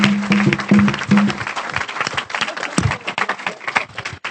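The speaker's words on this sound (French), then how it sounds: "On l'acclame encore, s'il vous plaît." An audience at a religious gathering bursts into applause, dense clapping that is loud and sustained, with voices and cheers mixed in.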